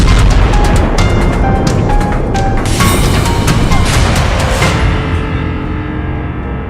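Rocket attack explosions in Tel Aviv: loud, continuous rumbling booms and blasts that stay heavy throughout, then ease off toward the end, with sustained tones running through the rumble.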